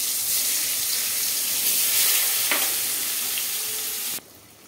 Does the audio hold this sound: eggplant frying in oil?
yes